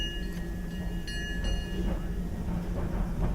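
Disneyland Railroad train rolling along on its Grand Circle Tour, a steady low rumble of wheels and cars running continuously with faint ringing tones above, with no one speaking.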